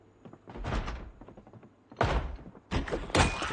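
Repeated thuds of a zombie banging on a door in the survival game Project Zomboid, coming in several loud clustered bursts with short pauses between them.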